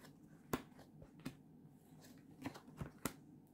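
Tarot cards are handled in a reading: a few crisp flicks and snaps of cards being drawn and laid down close by in an otherwise quiet room, irregular and light.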